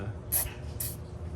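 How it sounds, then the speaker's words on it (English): Penetrating fluid sprays from an aerosol can onto a rusted brake rotor on a Mercedes W220, two short sharp hissing bursts about half a second apart, close up. "That'll spray in some of the holes. It'll help break it loose."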